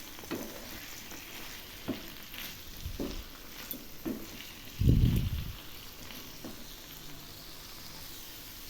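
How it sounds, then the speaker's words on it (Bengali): Chili powder and tomato paste sautéing in a pan for a broccoli and katla fish dish, with a steady soft sizzle, scattered stirring scrapes and a louder clatter midway; no voices. "এবার আমি দিয়ে দিচ্ছি ছোট 1 চামচ লঙ্কার গুঁড়ো, আর দিয়ে দিচ্ছি 1/2 টমেটো পেস্ট। এবার এগুলি খুব ভালো করে কষিয়ে নেব।"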